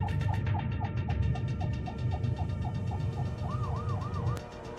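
Ambulance siren on a road, a repeating rising-and-falling wail over low traffic rumble, moderately distant, ending with a faster yelping pattern.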